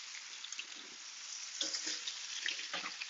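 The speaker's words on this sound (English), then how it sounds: "Those peppers and those onions scorching in that lime juice." Peppers and onions sizzle in lime juice in a hot pan, a steady bright hiss with crackling pops swelling louder in the second half, close up and faint overall, with no talking.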